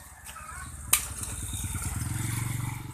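A motorcycle engine idles nearby with a steady low pulsing throb, a sharp click partway through and the rhythm firming up toward the end.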